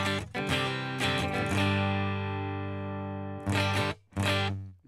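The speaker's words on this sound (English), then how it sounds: "we're getting that 2 and 4 position kind of sound on a Strat" Electric Strat-style guitar fitted with Fishman Fluence pickups in the in-between position 2 and 4 tone, ringing out sustained chords that decay, then two short restruck chords near the end, played alone.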